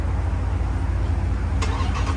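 A truck engine cranks and starts up and settles into a loud, low idle close by. A sharp mechanical burst sounds near the end.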